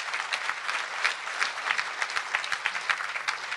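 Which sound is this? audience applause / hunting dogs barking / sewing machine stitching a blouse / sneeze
audience applause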